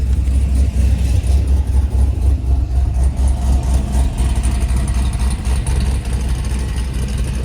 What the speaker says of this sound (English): So right now the exhaust is closed.